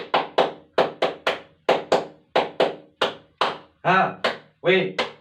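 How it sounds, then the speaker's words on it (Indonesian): A group performs the rhythmic "tepuk awe" clap, a patterned sequence of about a dozen sharp, loud hand claps in quick clusters with brief pauses, close and clear. "mari kita tepuk awe dulu"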